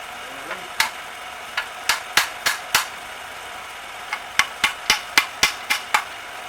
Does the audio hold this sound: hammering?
yes